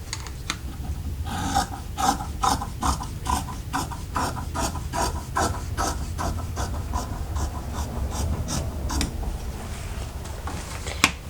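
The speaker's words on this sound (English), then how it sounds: "we're going to cut this flap off right here" Scissors snip through fabric to cut off a flap while making bias tape, a run of crisp, close, rhythmic cuts with brief pauses between strokes.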